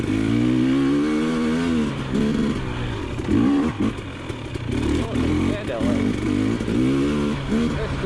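Enduro dirt bike engine revving and pulling through the gears while being ridden, a loud, continuous motor drone with rising and falling pitch, heard up close with wind buffeting throughout.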